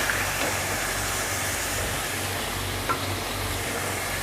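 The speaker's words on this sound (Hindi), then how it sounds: "अब मैं इसमें डाल दूंगी प्याज।" Chicken and onion fry in a karahi with a loud, steady sizzle and hiss, joined by faint stirring clicks, and no talking.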